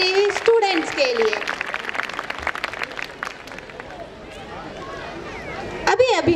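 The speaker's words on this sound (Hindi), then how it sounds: "एक बार जोरदार तालियां हो जाए हमारे नर्सरी स्टूडेंट्स के लिए" Parents in an audience at a school annual function clap for nursery students, a burst of crowd applause and murmuring that swells, thins out midway and picks up again while someone talks over it on a microphone.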